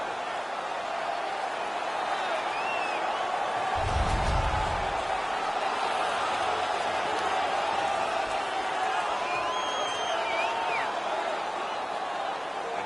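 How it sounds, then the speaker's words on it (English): Ecstatic hockey arena crowd at an NHL playoff game between Buffalo and Detroit, cheering after a fight: a steady, dense roar of many voices that holds loud throughout, with a brief low thump near the start. "The crowd is ecstatic."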